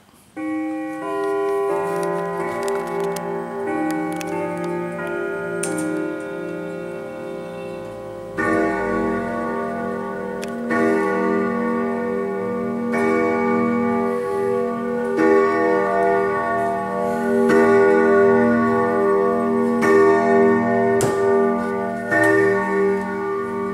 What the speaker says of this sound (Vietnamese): cái tiếng của nó vang ngân trầm hùng của cái đồng hồ quả tạ Đức nó như thế nào